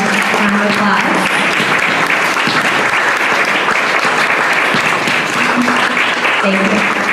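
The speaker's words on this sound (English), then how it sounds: "Can we get a round of applause?" Audience at a women in STEM panel event breaks into sustained applause, a loud, even wash of many hands clapping continuously, with faint voices mixed in.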